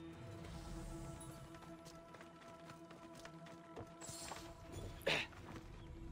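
Hoofbeats of a horse in the video game Assassin's Creed Odyssey: a steady clip-clop walk at moderate distance under game ambience, with a sharper thump near the end.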